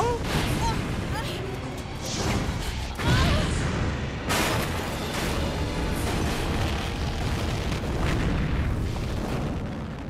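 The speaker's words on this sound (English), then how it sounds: "Over here exploding gas stations and everything" Gas stations explode in Resident Evil 3 amid continuous game action, a sustained noisy roar with a sharp blast near the three-second mark and another around four seconds, while someone talks throughout.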